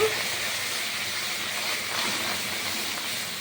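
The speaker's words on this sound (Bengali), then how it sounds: "সামান্য একটু একটুখানি জল দিয়ে ক্যারামেল করে নেব একটু" Sugar and a splash of water caramelizing in a pan for Bengali kora paker sandesh, giving a steady, close, broadband sizzling hiss that holds evenly for several seconds with no talk.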